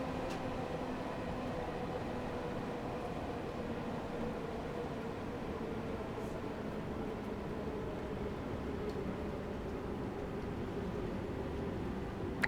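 A London Underground Bakerloo Line train in the Train Sim World 2 game brakes with a steady, even rumble and hiss that holds constant throughout, with no voices.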